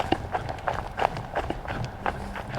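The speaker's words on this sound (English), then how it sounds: "I heard footsteps." Quick, light footsteps hurry across a floor in an old hall, an irregular run of soft thuds and scuffs at moderate distance with faint background noise and no clear talk.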